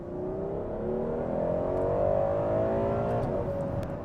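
Ferrari 12Cilindri V12 supercar engine revving up through the gears on twisty hairpin roads, a rising, layered mechanical howl that climbs in pitch then drops at a shift, loud and sustained throughout.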